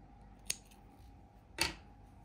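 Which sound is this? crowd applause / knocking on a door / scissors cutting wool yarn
scissors cutting wool yarn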